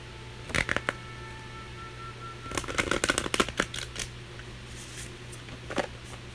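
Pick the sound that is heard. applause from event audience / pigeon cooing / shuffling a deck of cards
shuffling a deck of cards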